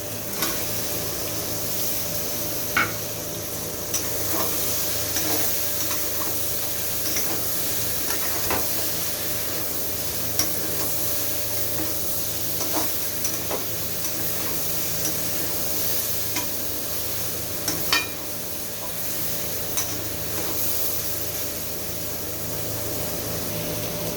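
Soybean and capsicum frying in a pan for soyabean chilli make a steady hiss with scattered light ticks and spatters, heard alone for a long stretch.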